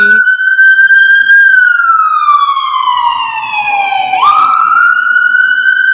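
A loud wailing ambulance siren sweeps slowly down in pitch, then jumps back up, sounding close and continuous throughout.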